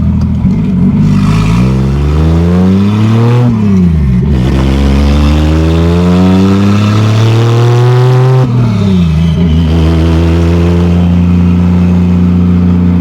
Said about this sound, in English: You can hear that turbo.